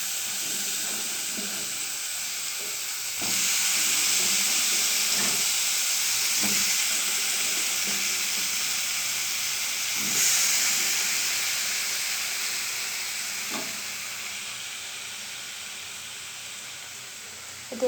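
Spice paste frying in a pan ahead of adding potatoes, a steady close hiss and sizzle that swells partway through, with occasional stirring taps and no talk.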